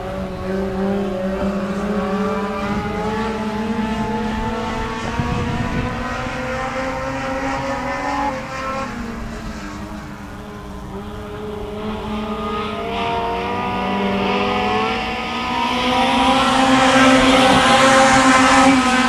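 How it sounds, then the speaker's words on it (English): Mini stock race cars on a dirt oval at Genesee during qualifying laps, engines droning steadily with rising and falling harmonic pitch as cars pass, loud throughout and swelling again near the end, with no talk. "These cars are now starting to spread out, just putting down some good qualifying laps here."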